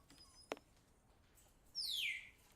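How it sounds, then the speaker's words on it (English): Birds in a pet shop scene of the 2009 game Sherlock Holmes versus Jack the Ripper: a sharp single chirp early, then a brighter, longer descending tweet, both fairly faint against a quiet background. "Some birds."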